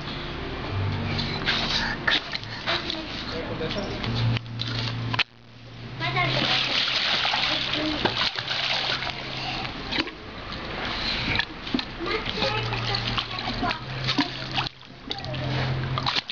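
A child splashes repeatedly in water while playing on an inflatable mattress, with irregular close splashes and sloshing throughout and people talking over it at times.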